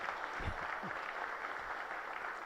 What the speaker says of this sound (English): Several rounds of applause.